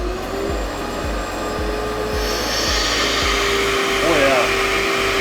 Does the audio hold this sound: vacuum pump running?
yes